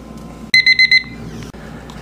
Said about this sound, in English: the timer went